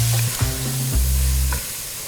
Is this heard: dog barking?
no